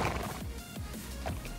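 A horse in the online game Alicia Online gives a short series of snorting, whinnying calls over a dense game soundtrack, several rising and falling cries spread across a second and a half.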